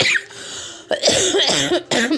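A fit of harsh, rasping coughs up close, several in quick succession, with no talking.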